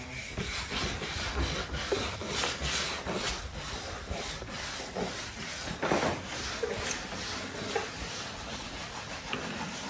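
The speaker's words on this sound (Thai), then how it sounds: "แต่ละคนก็จะ ช่วยกัน ขัดในส่วนนี้นะครับ" Several workers scrub and scrape old stain off wooden surfaces after applying a chemical stripper, producing continuous rough rubbing and rasping strokes that overlap in a steady, close rhythm without speech.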